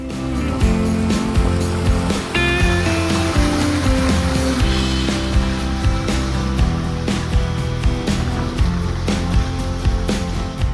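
Loud, continuous rush and churn of water as a van drives through a shallow creek crossing in Far North Queensland, its engine rumbling with clunks underneath, sustained throughout.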